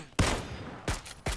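Three loud gunshots in a shooter video game, spaced irregularly over about a second, each a sharp crack with a short decaying tail.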